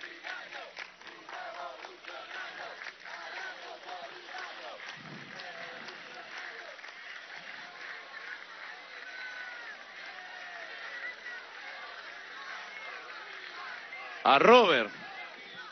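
A crowd applauding and cheering at a memorial gathering, a dense continuous roar of claps and voices that holds throughout, someone speaking over it near the start and a loud burst near the end.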